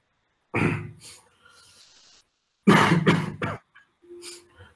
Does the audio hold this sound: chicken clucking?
no